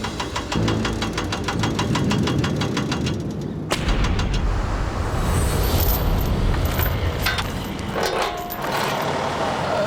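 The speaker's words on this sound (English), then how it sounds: "That's the winch tractor that we're going to use to help us load the loco up the ramp and then onto the flat car" A winch tractor's engine runs while a diesel locomotive is loaded up a ramp onto a flat car, giving a loud, steady knocking rumble with rhythmic pulses and a sharp clank partway through, with no talk.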